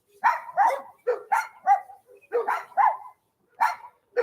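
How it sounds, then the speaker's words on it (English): A small guard dog at a house barks in a rapid, uneven string of sharp yaps, about a dozen in all with short gaps between them, close and clear with no talk. "This small dog here, its work is to bark and create awareness."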